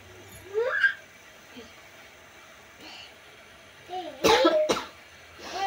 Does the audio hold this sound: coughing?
yes